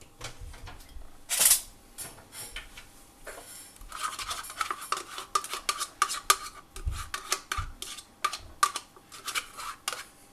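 A spoon scoops mascarpone out of a pot for a pear dessert cream, with a run of close scraping, tapping and clinking strokes against the container, uneven in rhythm, no talking.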